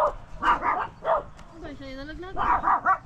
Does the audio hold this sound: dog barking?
yes